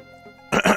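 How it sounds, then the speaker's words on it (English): A single sharp cough into a microphone during a sound check, sudden and close after a moment of quiet hum. "the best way to test this is to cough"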